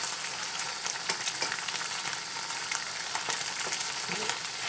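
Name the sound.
Spam slices frying in a pan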